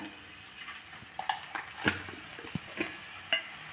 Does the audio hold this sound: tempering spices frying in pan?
yes